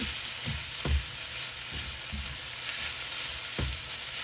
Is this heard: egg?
yes